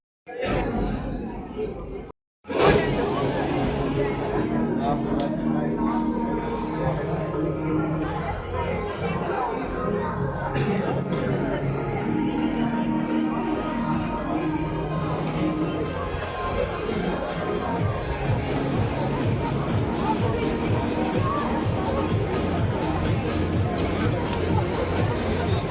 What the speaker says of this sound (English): Crowd is really crazy.